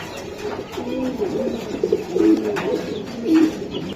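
Red khaki Giribaz pigeons coo in a steady run of low, rolling calls that swell and fade, fairly close and clear with no talk over them.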